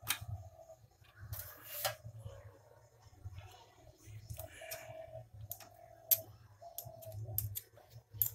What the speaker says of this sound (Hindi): तो टिक टिक आवाज़ हो रहा है, ये टैपिट लूज है